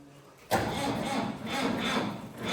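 A farm tractor engine cranks and catches, settling into a steady rumbling run close by, fairly loud with slight pulsing.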